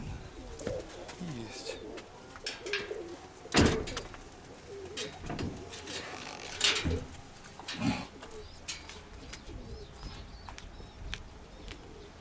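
Pigeons cooing in a loft, soft throaty coos at irregular intervals, with scattered bird calls, a few knocks and light rustling around them.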